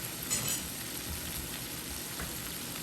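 Cooked shrimp sizzling and frying in a pan after more butter goes in, a steady close crackle with a faint utensil clink, and no voices.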